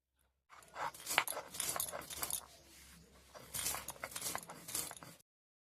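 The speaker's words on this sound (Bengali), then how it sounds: "শিলনোড়ায় আমি আদা মশলাটা গুঁড়ো করে নেব।" Ginger spice ground by hand on a stone sil-nora, a gritty scraping and rubbing in repeated strokes, close and fairly quiet, with no voices.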